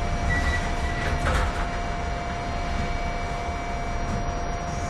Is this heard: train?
yes